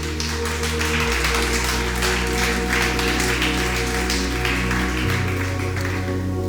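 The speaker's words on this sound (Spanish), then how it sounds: "Dale el mejor aplauso al Rey." Scattered clapping from a church congregation rises over sustained organ or keyboard chords, the applause a busy texture beneath steady low music.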